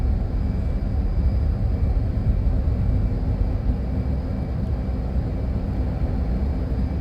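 An F/A-18 Hornet jet engine running on afterburner in the DCS flight simulator game produces a steady, loud, broadband roar with deep low rumble that holds constant throughout.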